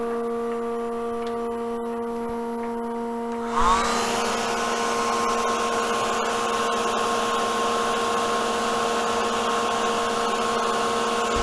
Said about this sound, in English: Let's use the hair dryer again.